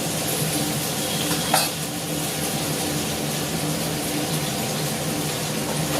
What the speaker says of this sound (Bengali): আলুটাকে একটু লাল করে ভেজে নেবো।